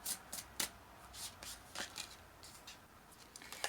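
A tarot card deck being shuffled by hand up close, a quiet run of crisp riffling snaps and soft card flutters in uneven bursts.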